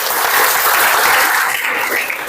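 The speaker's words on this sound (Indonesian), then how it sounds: "Beri aplaus dulu." Applause from students in a classroom, a dense, steady burst of clapping for about two seconds, fairly loud and close, with no talking over it.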